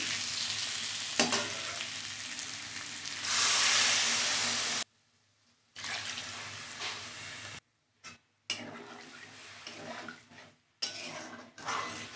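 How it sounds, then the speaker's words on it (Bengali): Water poured into a pan of well-fried spice mixture for a potato and taro curry, a loud rushing hiss and sizzle that swells, then breaks off, followed by stirring and clattering of a spoon against the pan. "দেখো ভালো করে কষানো হয়ে গেছে, এবার জল দিয়ে দিচ্ছি"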